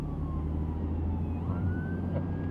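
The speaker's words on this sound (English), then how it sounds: "I wonder, can you hear that siren?" A passing ambulance siren sweeps slowly in pitch, faint and distant, over a loud steady engine and road rumble from inside a moving car.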